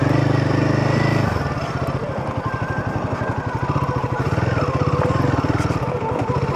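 Royal Enfield Himalayan 450 motorcycle riding off-road on a hill track, its engine running loud and close with a rapid steady thumping pulse throughout.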